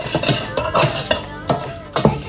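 Indian bay leaves and panch phoron fry in oil in a pan, with a loud, close sizzle broken by repeated clinks and scrapes of a utensil against the metal, and no voices.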